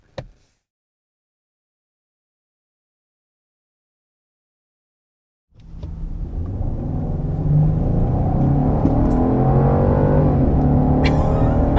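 A Genesis GV70 Sport Prestige sits silent after a short click, then accelerates from a rolling start to 70 mph with a rising engine note and road roar that swells and holds steady, heard from inside the cabin.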